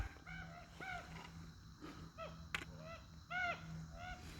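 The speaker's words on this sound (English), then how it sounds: "those birds you can maybe hear squawking" Several birds squawk and honk in harsh, repeated calls near Tinker Cliffs on a trail hike, a few bursts at a moderate distance, with one louder cluster toward the end over a steady low outdoor hum.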